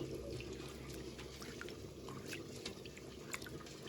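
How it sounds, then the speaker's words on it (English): Long grain rice water coming to a bubbling boil in a pot on the stove, a steady low churning simmer with faint scattered pops and drips, quiet and continuous throughout. "my pot a bubble"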